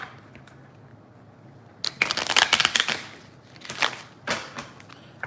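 A deck of cards is shuffled in quick riffling bursts after a quiet pause, crisp and close, followed by a couple of shorter riffles.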